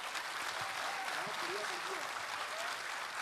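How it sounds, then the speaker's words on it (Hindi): Audience applause after a Hindi poetry recitation by Kumar Vishwas, a steady wash of many hands clapping that fills the whole stretch at moderate level, with faint voices and a few vocal tones rising above it. "एक बार जोरदार तालियां"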